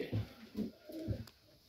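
Pigeons in a loft give soft, low coos, three or four throaty phrases in quick succession, close by and fairly quiet against a faint room hiss.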